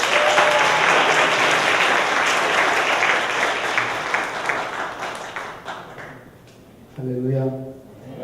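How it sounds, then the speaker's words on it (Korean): Warm, sustained applause from a church congregation welcoming a visiting pastor, loud and dense for several seconds before fading, then a voice begins speaking near the end. "뜨거운 박수로 환영합니다."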